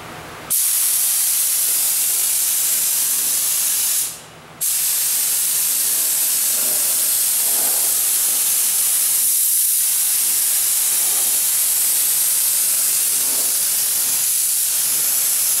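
Second coat of primer sprays onto a car's deck lid in a loud, steady close hiss that runs almost nonstop, broken by one short pause early on, then continues unbroken to the end.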